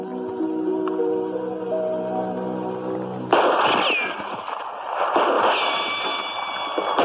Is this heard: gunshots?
yes